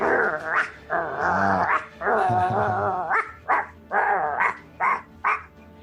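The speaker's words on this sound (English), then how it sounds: "The dogs are snarling and dripping and." Dogs snarl and growl in a tabletop fantasy game scene, a run of close, loud, rough growls in several bursts, some long and some clipped, with no talking over them.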